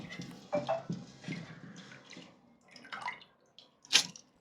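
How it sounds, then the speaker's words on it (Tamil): Raw rice is washed by hand in water, producing faint, scattered swishes and splashy drips with a sharper splash near the end, close and quiet. "அரிசியை நல்லா களைஞ்சி எடுத்துக்கலாம்"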